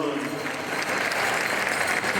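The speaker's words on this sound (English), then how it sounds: "Another round of applause for song number 1." Crowd applause fills an exhibition pow wow session at the Mall of America, Shakopee 2016: dense, steady clapping from many hands throughout, even and sustained without pause.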